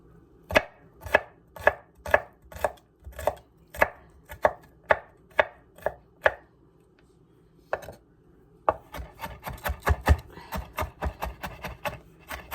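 A knife chops an onion on a cutting board for homemade chilli: crisp, evenly spaced chops, a short pause with one lone cut, then a faster, denser run of chopping, close and clear with no talking.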